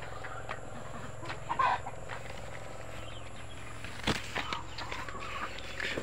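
Kelso gamefowl hens cluck and murmur in a farmyard pen, soft scattered calls against a steady background hum, with a sharper burst near the middle and a few faint footsteps.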